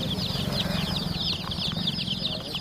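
Turkey chicks for sale at a roadside stall call in a constant chorus of high, rapid peeping and chirps, close and busy, with low street rumble beneath.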